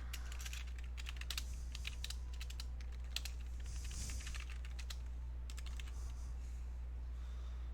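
Fast, steady typing on a computer keyboard, close and continuous, with bursts of key clicks over a low constant hum and no voices.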